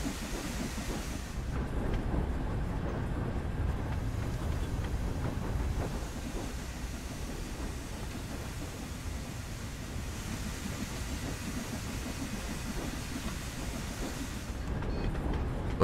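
A steam locomotive runs in the Train Sim World 2 simulator on the Liverpool to Crewe line, giving a continuous, even rumble of wheels and machinery with a steady hiss and no talking.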